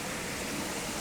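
A waterfall and its stream pour steadily beside a wall of boulders, a dense, even rushing hiss of water that fills the moment without change, with no voices.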